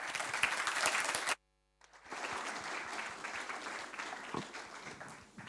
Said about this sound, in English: could we welcome him with a round of applause